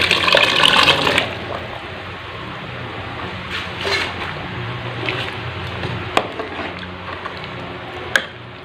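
Boiled chickpeas and their cooking water are tipped into a gravy for Lahori chikar cholay, giving a brief loud splashing pour at the start, followed by quieter wet squishing and low bubbling.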